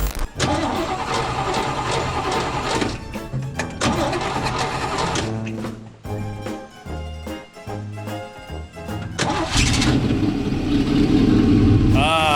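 A Tri-Five classic car engine with old original parts cranks in bursts, catches and settles into a loud, steady running idle. Voices talk over it partway through.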